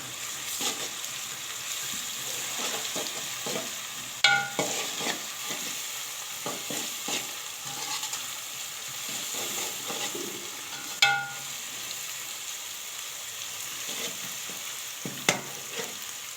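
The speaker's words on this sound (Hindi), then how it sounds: "प्याज हमारे ब्राउन हो रहे हैं। अब हम इसमें अदरक लहसुन का पेस्ट डाल देते हैं।" Browning onions sizzle and fry in a pan with ginger garlic paste for a restaurant-style chicken biryani, a steady soft hiss broken by occasional scraping stirs and spoon knocks, close and without talking.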